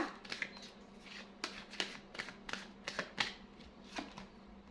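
Tarot cards being shuffled in quick bursts of papery riffles and slaps, close and fairly loud, with short pauses between the flurries and no talking.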